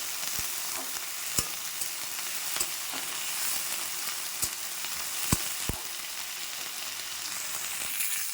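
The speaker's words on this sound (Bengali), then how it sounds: "আমি কিন্তু ভালো করে এটা নাড়িয়ে চাড়িয়ে ভেজে নিচ্ছি" Ingredients stir-fried with salt, turmeric and green chili sizzle in a pan, giving a steady soft hiss broken by sharp clacks from the spoon scraping and stirring at irregular intervals.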